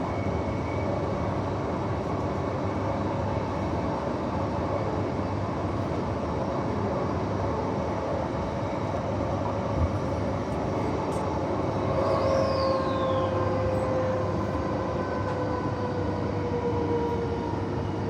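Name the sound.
Midland line train braking hard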